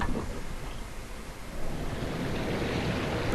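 Water rushes through sluices in a Resident Evil game: a steady, broad roar of flowing water, loud and continuous throughout, with no talk.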